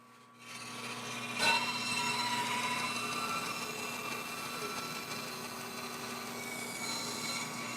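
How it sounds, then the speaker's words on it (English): A bandsaw cuts a scrap-wood sanding block blank, a steady close whine with a sharp bite as the blade meets the wood, then a continuous hum. "head over to the bandsaw where we'll cut out this middle section"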